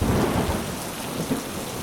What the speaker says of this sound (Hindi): तेज आंधी के साथ भारी बारिश शुरू हो गई।